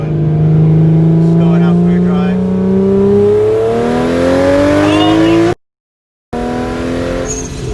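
BMW 335xi with an N54 engine and big single turbo driving, a loud engine pulling through rising revs and gear changes, cut by a short silent gap before the engine resumes.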